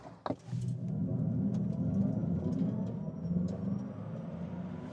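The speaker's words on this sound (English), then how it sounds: "So that was 0 to 90 kilometers an hour. There's a good acceleration, definitely." An electric Audi Concept C, rear-wheel drive, accelerating hard from standstill to 90 km/h, heard from inside as a steady low rumbling drone with a faint rising whine after a brief click at the start.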